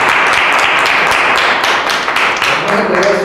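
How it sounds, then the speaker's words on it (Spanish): An audience applauds after a talk on graphics, a dense, steady burst of many hands clapping close by that thins slightly toward the end, with a voice beginning to speak over it. "le damos un aplauso"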